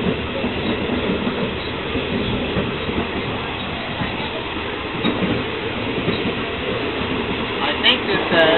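A train from Kuala Lumpur to Bangkok rolls along, heard from inside the carriage as a continuous low rumble with rhythmic wheel clatter and rattling, and a faint squeal near the end, with people talking over it.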